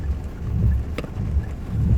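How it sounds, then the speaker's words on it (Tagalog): Heavy rain while driving in South Korea, heard from inside a stopped car; a low, rumbling drumming wash with wind buffeting and a single sharp tick in the middle. "Super lakas talaga ng ulan."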